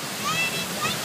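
Multnomah Falls roaring up close, a dense, constant rush of falling water and spray with a voice briefly audible over it.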